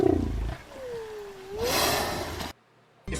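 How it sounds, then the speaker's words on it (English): A recorded whale call played back from a computer: one long, low, gliding moan that dips and then rises, set against faint hiss and followed by a short silence. "So I selected a whale sound from my computer."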